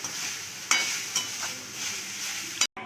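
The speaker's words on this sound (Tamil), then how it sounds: "தேங்காய் நல்லா செவக்க வறுத்து எடுத்துக்கலாம்" Grated coconut roasts in a pan, a gentle dry sizzle broken by a few sharp spatula scrapes as it is stirred close up, with no talking.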